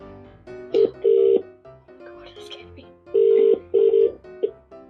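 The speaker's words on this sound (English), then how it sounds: "Calling Nikki's mobile." An outgoing phone call rings through an Amazon Echo Show 8 smart display, with short repeated ringback tone bursts in a double-ring pattern, clear and close, with a faint voice between rings.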